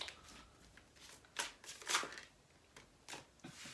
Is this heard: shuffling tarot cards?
yes